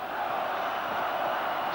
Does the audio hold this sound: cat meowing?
no